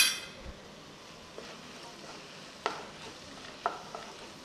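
Fried bread slices are stirred in a pan of bread chilli, with a faint background sizzle and a few sharp spoon-against-pan clinks spaced out over the stirring.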